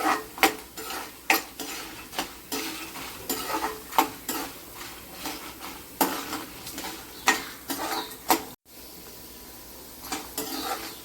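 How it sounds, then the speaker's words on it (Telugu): Cumin seeds and peanuts fry on low heat in a pan as tempering for raw mango pulihora, a soft sizzle under repeated scraping and clinking strokes of a spatula against the pan. "జీలకర్ర సిమ్లో పెట్టుకొని ఫ్రై చేసుకోవాలండి"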